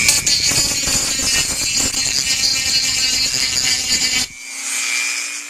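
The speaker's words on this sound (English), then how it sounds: "we can clean that up with the Dremel real nice. I use a little grinding stone bit for this part." A Dremel rotary tool fitted with a small grinding stone bit smooths the jagged edges of a metal alcohol stove, a loud steady high whine that cuts out abruptly near the end, leaving a fainter lingering hum.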